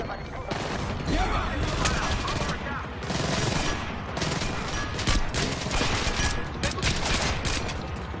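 Rapid bursts of gunfire in the stealth-action video game Splinter Cell Blacklist, dense overlapping shots in a continuous loud fusillade with crashes and game noise, close and dominant throughout.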